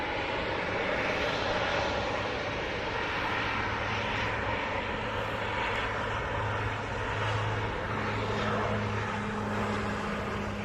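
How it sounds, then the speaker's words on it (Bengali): A Biman Bangladesh Dash 8-400 turboprop airliner approaches, its propeller and engine roar loud and steady throughout with a broad rushing drone, heard from a crowded spot near the runway at Uttara, Dhaka, without talk. "এগিয়ে আসছে বিমান বাংলাদেশ এয়ারলাইন্সের ড্যাশ এইট ফোর হান্ড্রেড মডেলের বিমান"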